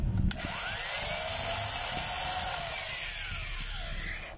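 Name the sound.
electric motor running weakly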